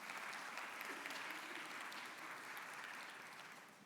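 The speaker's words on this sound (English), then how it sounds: "He deserves a round of applause." Audience at an agricultural investment conference applauds a department head, a broad, even wash of many clapping hands at moderate distance that holds steady and then tapers slightly toward the end.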